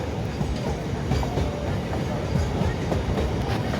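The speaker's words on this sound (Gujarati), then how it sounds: "આ તો ભાઈ માલગાડી ભરેલી છે." A loaded freight train rumbles past close by, a steady, dense roar of rail noise with faint rhythmic wheel clatter running through the whole stretch.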